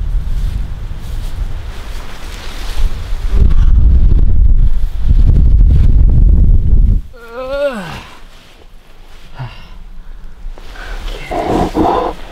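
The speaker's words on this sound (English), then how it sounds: "It's a little windy right now" Strong wind buffets the microphone in loud, rumbling gusts for several seconds, then eases as distant animal-like calls and quieter wind follow.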